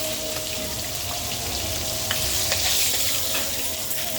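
Fish frying in a pan gives a steady, close sizzle and crackle throughout, with a few sharper pops and a faint thin whine running underneath.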